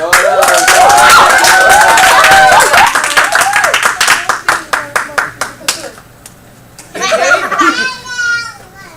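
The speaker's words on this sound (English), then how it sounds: "Clap him up." A group of children and adults clap and cheer for a boy arriving on a family pilgrimage trip, with loud sustained applause fading into a few scattered claps, then a voice speaking at the end.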